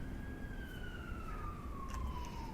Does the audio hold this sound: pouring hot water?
no